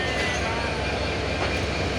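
The 767 Dolanchapa Express, hauled by locomotive 2930, rolls into Parbatipur Junction as a close, continuous rumble and rattle of wagons on the rails.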